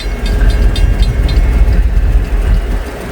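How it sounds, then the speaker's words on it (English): Trains pass on railroad tracks in Northern Kentucky, producing a loud, continuous low rumble with faint rhythmic clatter from wheels over the rails, close by and steady throughout. "let me get these two trains"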